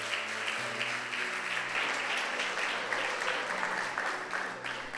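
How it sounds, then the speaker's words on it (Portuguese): Church congregation applauding, a sustained, even roar of many hands clapping over a low held organ or keyboard tone, with faint voices mixed in. "Aplauda o Senhor Jesus novamente."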